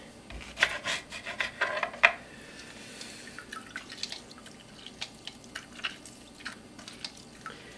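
A knife cuts open an unwaxed lemon in close, quiet, wet slicing and scraping strokes, a burst of juicy rasps early on, then scattered softer cuts and drips.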